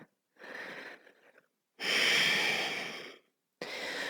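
Slow, audible breaths during a yoga practice: a soft inhale, then a longer, louder exhale with a slight wheezy rasp, and the start of another breath, close and alone with no talking.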